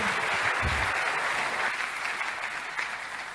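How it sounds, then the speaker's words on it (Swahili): A church congregation applauds steadily and loudly throughout, a dense wash of clapping that eases slightly toward the end, with no talk over it. "Mchapie tena Bwana makofi."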